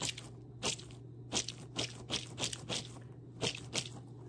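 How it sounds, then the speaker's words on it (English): Squeezy toy repeatedly squeezed, producing soft crunchy, crackling squishes in an irregular series of about a dozen presses, close but faint over a low steady hum. "That's a nice squeezy toy."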